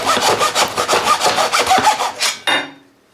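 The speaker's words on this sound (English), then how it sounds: "what I'm going to do is hacksaw off a 1/2 inch on both center sections" Hacksaw cutting through aluminum tubing from a Mosley 6M-33-JR 6m Yagi antenna, close and loud, with a steady rapid back-and-forth stroke rhythm for about two and a half seconds before a final scrape and stop.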